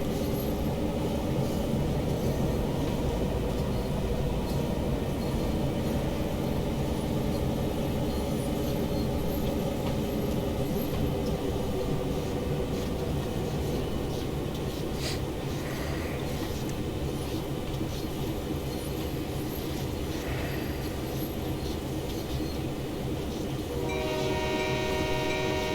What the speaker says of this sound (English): if it is necessary to get your train into the siding that you want to have it